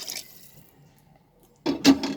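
A brief splashing pour of water into a cooking pot near the end, loud and close, after a quiet stretch with faint clinking at the start.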